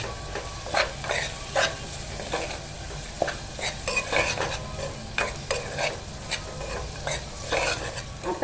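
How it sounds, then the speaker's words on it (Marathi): Softened onion with turmeric and Malvani masala sautéed in oil for a Malvani mutton curry: close sizzling frying with rhythmic stirring scrapes of a spoon against the pan, alone. "आता आपण ना त्यात हळद टाकून घेऊया मालवणी मसाला सुद्धा टाकूया आणि या तेलावरती ना छान असा परतून घेऊया"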